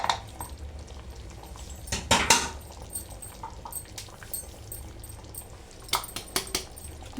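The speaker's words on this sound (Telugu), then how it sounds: "వేసేసి ఒక్క నిమిషం కలిపేయాలి" A spoon stirs and scrapes through ivy gourd curry mixed with sesame and peanut powder in a pot, with soft metallic clinks and a couple of sharper knocks against the pan's rim.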